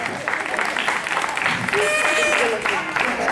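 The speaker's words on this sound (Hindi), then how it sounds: "ईंट और पाइप के लिए जोरदार ताली हो जाए।" Loud, sustained clapping from a crowd at a school annual function in Chembur, continuing steadily for the whole moment with some voices mixed in.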